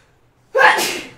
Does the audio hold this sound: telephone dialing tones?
no